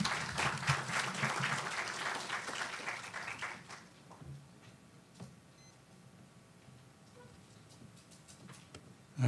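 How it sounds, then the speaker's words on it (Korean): Applause from a lecture audience greets a professor coming to the podium, a brisk burst of many clapping hands that fades over a few seconds into quiet room noise. "박수로 환영해 주시기 바랍니다."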